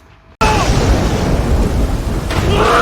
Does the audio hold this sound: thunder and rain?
yes